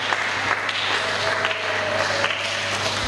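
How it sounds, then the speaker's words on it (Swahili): A congregation at a prayer meeting claps in praise, a continuous dense wash of hands under a steady background hum, with no clear beat. "Mshangilie Yehova kwa makofi."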